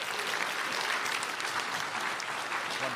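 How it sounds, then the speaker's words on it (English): Steady applause from a conference audience after a live panel discussion, dense and continuous throughout at moderate distance with no voices on top. "Let's give them a hand of applause."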